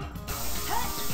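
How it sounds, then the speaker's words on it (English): Broad hissing spray of an aerosol can tagging graffiti in the video game Jet Set Radio, a steady continuous burst lasting about a second with game sounds faintly underneath. "Pretty good at spraying, I gotta say."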